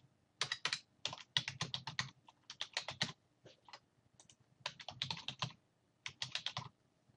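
A password is typed on a computer keyboard in quick bursts of crisp, close key clicks separated by short pauses, with no voices.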